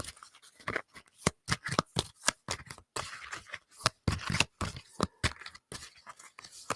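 Oracle cards being shuffled by hand, a fast run of crisp flicking and riffling bursts with short pauses between, close and fairly quiet.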